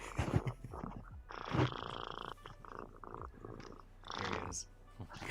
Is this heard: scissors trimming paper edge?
no